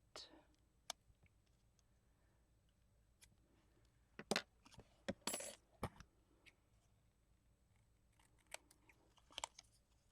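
Scissors snip paper for a winter journal collage, giving a few sharp, close cuts clustered in the middle, then sparse small clicks and rustles in a quiet room.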